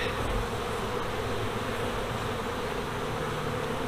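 Honeybees filling a hive during an inspection, a dense, steady, close-up buzz that holds unbroken throughout with no voices.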